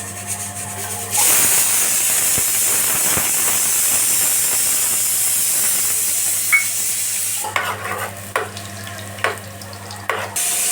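Onions fry in heated oil and ghee for a prawn and spinach biryani, a steady loud sizzle and hiss that runs throughout, joined near the end by several sharp stirring scrapes and clinks.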